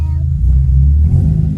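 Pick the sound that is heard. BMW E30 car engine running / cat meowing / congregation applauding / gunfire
BMW E30 car engine running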